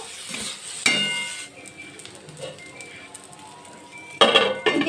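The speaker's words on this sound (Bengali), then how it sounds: "এবার এইভাবে নাড়াচাড়া করে নেবো।" Bitter gourd curry with salt and turmeric being stirred in a pan, metal utensil scraping and clinking against the pan in bursts at the start and end, with a faint sizzle between.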